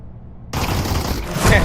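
Flashbang grenades going off in the Pavlov shooter game during a tournament match, a sudden loud blast that swells into a dense, roaring wash of noise lasting over a second, close and intense.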